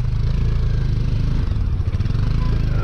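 A motorcycle engine on a trail ride holds a steady, loud, rough drone that sits close to the listener, with the low rumble running without a break.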